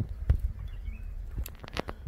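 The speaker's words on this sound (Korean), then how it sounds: "이야, 새소리도 너무 좋습니다." Outdoors among mulberry trees, birds chirp in short bright calls scattered over soft rustling and bumps, light and intermittent rather than a continuous song.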